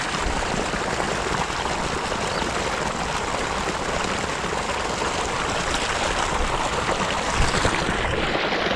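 Water gushes steadily into opened fish pond pools on a farm, a dense, continuous rushing splash, close and loud throughout without talk.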